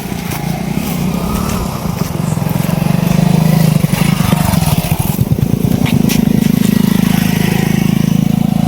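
A motorcycle engine runs steadily nearby, a low droning rumble that grows louder after a few seconds and holds at that level with no one talking.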